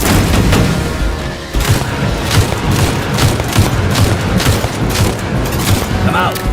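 Grenade blast in the sci-fi shooter Aliens: Fireteam Elite, a loud booming detonation amid continuous gunfire and repeated thuds that keep the whole stretch dense and loud.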